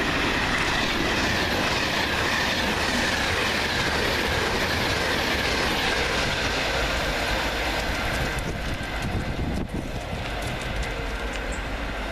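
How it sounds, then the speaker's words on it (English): A Class 390 electric train rushes southbound through Lea Hall station on the Birmingham New Street to London Euston line, a loud continuous roar with wheel clatter and rail noise, close by and without talk. "390-042 flies southbound with 1 Bravo 38 from Birmingham New Street to London Euston"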